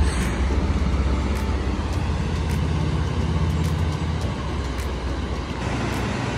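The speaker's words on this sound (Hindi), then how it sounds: "और ये VW की बस जा रही है," Volkswagen bus driving past on a bridge over a river in Switzerland, a loud continuous engine and tyre roar close by with steady traffic noise and no talk.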